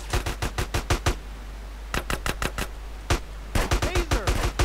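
Gunfire in GTA San Andreas during city riots: rapid bursts of automatic shots in clusters with short gaps, loud and sharp, with a steady low hum underneath.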